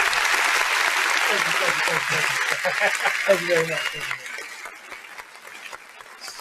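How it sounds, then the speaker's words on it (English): Audience applause at a comedy talk, a steady wash of clapping that carries through, with a voice speaking over it for the first few seconds before the clapping thins out. "Everybody give me a round of applause"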